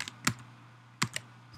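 Computer keyboard typing in a few short clustered bursts of keystrokes, close and fairly quiet, separated by pauses with no talking.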